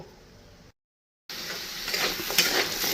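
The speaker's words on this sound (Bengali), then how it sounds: "আলুটাও ভেজে নিচ্ছি" Potatoes frying in a pan in a home kitchen give a steady crackling sizzle, with stirring scrapes and utensil clinks, after a brief gap of silence.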